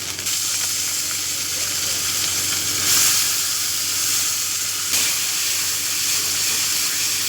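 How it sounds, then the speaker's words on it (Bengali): Chopped tomatoes hit a hot pan with ginger and turmeric for a Bengali potato curry, giving a loud, continuous close sizzle and steam hiss with a brief surge of spitting partway through. "এবার কিছু টমেটো কুচি দিয়ে দেব।"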